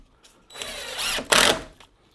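A power drill drives screws into the wooden benchwork of a large holiday train layout. Two short, loud bursts sound up close, the second louder, then the tool stops.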